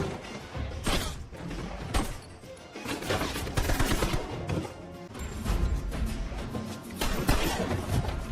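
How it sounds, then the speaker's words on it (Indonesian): Dense, sustained gunfire from a film shootout in Mr & Mrs Smith, with repeated bursts and sharp cracks layered over a busy, loud action soundtrack that runs throughout. "baku tembak pun terus terjadi"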